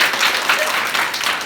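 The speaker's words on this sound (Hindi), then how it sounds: "एक बार प्रतिभा के लिए तालियां।" A school audience applauds a student named Pratibha, a dense, steady wash of many hands clapping together at close range, with no voices over it.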